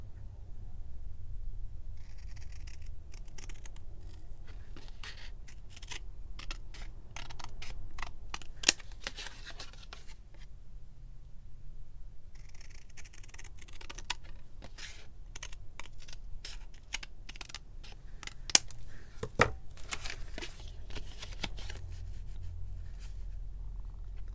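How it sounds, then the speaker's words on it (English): Scissors trim the sides of paper for a mid-century-style handmade journal in a quiet room: soft, close snips and rustling come in uneven bursts over a low background hum. "I think I will trim the sides down as well."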